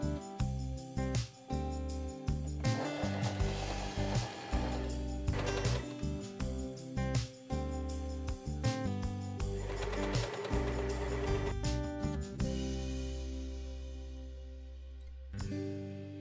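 Sewing machine straight-stitches the side seams of a velvet dress, running in steady mechanical bursts with short stops, near and moderately quiet, alone without voices.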